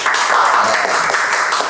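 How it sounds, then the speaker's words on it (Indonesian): Brief burst of clapping from a small group of people, loud and close, filling the short moment at a casual gathering of police football players. "tepuk tangan dulu"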